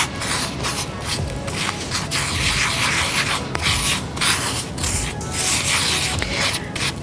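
Sand and flour being mixed together by hand in a soil experiment give a steady, close gritty rubbing and scraping that runs without a break the whole time, with no voices.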